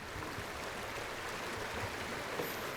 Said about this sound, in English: I quite like the sound of a babbling brook.